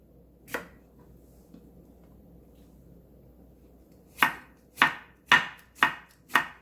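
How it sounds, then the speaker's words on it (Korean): A kitchen knife cuts cucumber into thin strips on a cutting board, giving one crisp chop, a pause, then five sharp, evenly spaced chops close by in a quick rhythm. "오이 채 썰어주세요."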